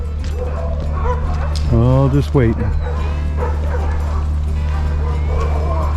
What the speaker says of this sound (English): Oh, and the dogs. Lots of dogs. Hear them? They're all over up there.